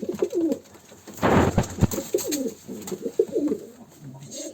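Young Kanat posta pigeons give soft, low cooing calls in overlapping phrases, with a louder burst of rustling or wing flutter partway through, close by.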